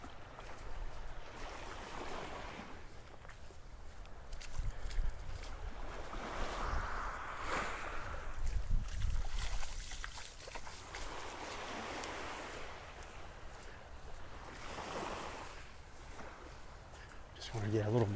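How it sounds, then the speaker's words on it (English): Ocean waves washing ashore at Vanderbilt Beach in North Naples, Florida, soft surf swells rising and falling every few seconds under light wind, distant and gentle, with no talking. "just the sounds of the waves"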